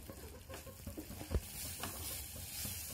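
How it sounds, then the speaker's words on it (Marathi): A spoon stirring a thickening paan leaf and milk mixture in a kadhai while making paan gulkand ladoo, giving soft irregular scraping and stirring strokes with a brief louder knock near the middle, fairly quiet and close with no talking. "आपल्याला सतत ढवळत राहायचंय अशा प्रकारे"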